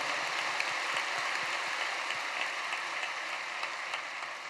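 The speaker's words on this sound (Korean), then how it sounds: "뜨거운 감사의 박수 한번 주시기 바랍니다." A church congregation applauds, a dense steady patter of many hands clapping that holds evenly throughout, heard from within the room.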